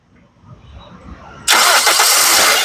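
A Toyota Corolla Altis G is cranked and its engine catches abruptly, jumping from quiet background with a faint voice to a loud, steady close idle.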